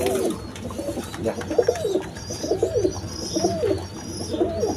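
A pair of Damascene pigeons coo close by in repeated soft, rolling phrases, steady and clear over a light background hum.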